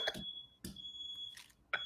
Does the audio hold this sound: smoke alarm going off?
yes